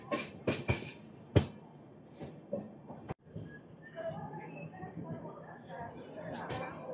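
Express train 17221 from Kakinada Port to Mumbai LTT pulls into Solapur station with sharp metallic clanks and knocks, then a lower rolling rumble, heard close from on board with voices talking over it.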